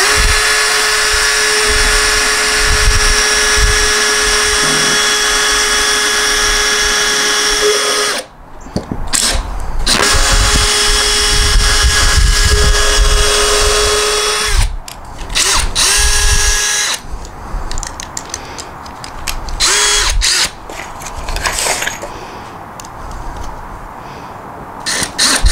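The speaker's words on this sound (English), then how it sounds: "we're going to drill through again" A power drill bores through the wooden boards of a raised bed planter box, loud and close, in several long whining bursts separated by brief pauses, with the motor pitch shifting as the bit bites.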